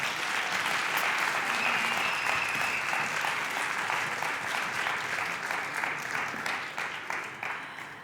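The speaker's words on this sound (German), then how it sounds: "Großen Applaus nochmal" Audience applause at a song contest final, a dense, sustained wash of many hands clapping at fairly close range, holding steady throughout and tapering slightly near the end.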